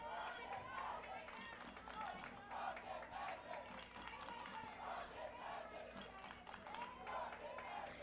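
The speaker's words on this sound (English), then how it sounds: "The fans are on their feet, clapping and hollering." Baseball fans on their feet at a high school playoff game, clapping and hollering in a continuous crowd roar with scattered shouts and rhythmic claps, distant and faint, blended with chatter.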